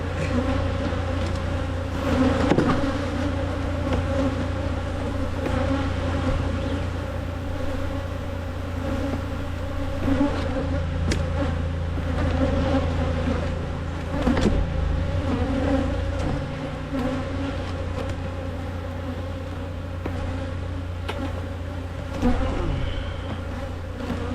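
Angry honey bees swarming around an opened backyard beehive, a dense continuous buzz of many insects close to the microphone, steady throughout with no talk.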